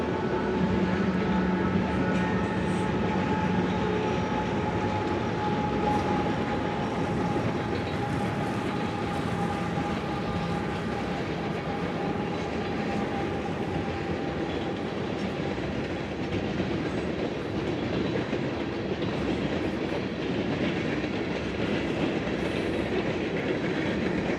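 A train rolls past on the railway in Leduc, Alberta, on a sunny day with melting snow, a steady, close rumble with faint wheel clatter lasting throughout, no talk.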